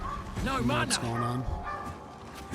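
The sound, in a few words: excited dog barking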